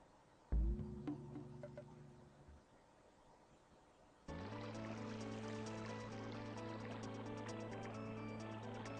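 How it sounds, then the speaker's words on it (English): Watery sound effects from the video game Earthbound: a sudden splash-like onset, then a steady flowing, gurgling texture layered with bright tonal game music, moderately loud and continuous. "Except there's water, sound effects in there."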